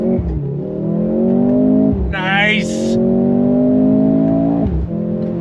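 A 2023 Mercedes-AMG C43 engine revs hard through rising gears on a launch-control start using the paddles, the pitch climbing then dropping at each shift, loud and close, with a brief voice partway through.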